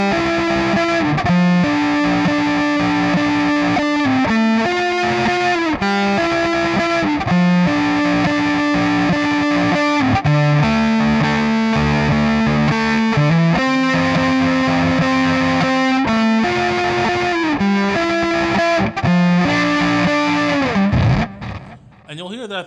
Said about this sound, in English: you'll hear a guitar kind of emphasizing a theme which will resonate throughout the whole song